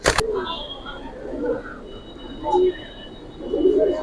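Giribaz pigeons cooing softly in a loft, low rounded coos repeating a few times, with a sharp knock at the start and some background noise.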